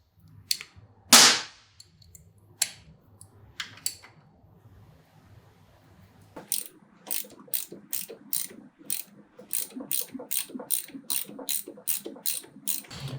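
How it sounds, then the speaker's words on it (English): Ratchet clicking as the 12 mm fasteners on the kickstand bracket of a Kawasaki Ninja 400 are broken loose, with a few sharp cracks and scattered clicks early, then a steady run of close, loud ratchet strokes. "And now we need to break these two fasteners loose here."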